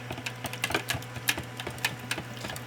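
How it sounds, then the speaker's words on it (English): A whisk beats pumpkin flan mixture in a bowl with quick, irregular clicking taps against the side, close and fairly quiet, without a pause. "Just whisk it a bit because we're gonna be adding another one."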